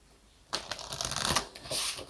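Oracle cards being shuffled by hand, a soft papery riffling and sliding that starts abruptly and continues in quick, close bursts without any talking.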